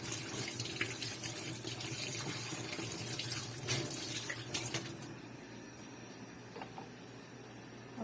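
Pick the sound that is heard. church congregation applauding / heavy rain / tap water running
tap water running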